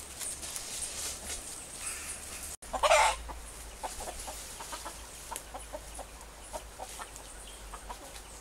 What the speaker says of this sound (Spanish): Aquí tengo este gallito, a los que les gustan los gallos de pelea.